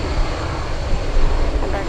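An MD-11 jet at Anchorage airport spools up for takeoff with a loud, steady, broadband engine roar that swells slightly, while a voice talks excitedly over it.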